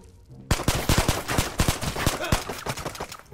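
Rapid bursts of gunshots from kitted Glock pistols in the video game Ghosts of Tabor, a dense rattle of sharp close shots in quick succession, loud and continuous with no talk.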